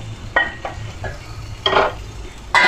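A spoon stirs sweet payasam in a pot, producing a few irregular scraping strokes against the metal, with a soft bubbling hiss beneath, heard up close.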